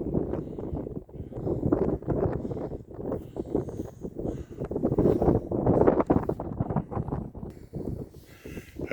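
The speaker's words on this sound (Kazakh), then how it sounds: "Жел қатты." Strong wind in open country near a village buffets the microphone in heavy, uneven low gusts, loud and close throughout, with no talking.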